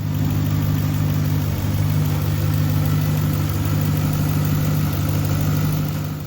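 A 2021 RAM 1500 Big Horn pickup truck engine idles steadily at close range, a low, even rumble with no revving or change in pace.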